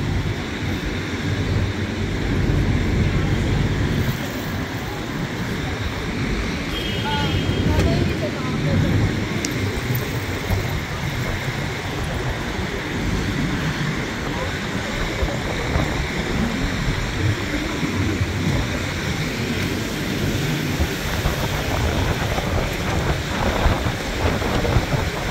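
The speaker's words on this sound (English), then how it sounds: "It was not this windy, it just got windy." Strong wind buffets the microphone at a hot dog cart on a New York City street corner, continuous roaring gusts rising and falling, with faint voices now and then underneath.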